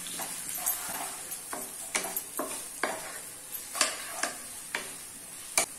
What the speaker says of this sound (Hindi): अभी ऑनियन को मीडियम फ्लेम पे गोल्डन ब्राउन होने तक फ्राई कर लेना है।